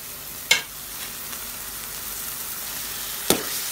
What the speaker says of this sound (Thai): ที่เห็นอยู่นี่คือต้มนะคะ ต้มน้ำปลา แล้วเดี๋ยวพอมันแห้งแล้วเราก็จะคั่วต่อค่ะ